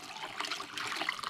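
Warm water pours from a pitcher over tarnished sterling silver, a soft, faint, continuous trickle and splash close by, no talk.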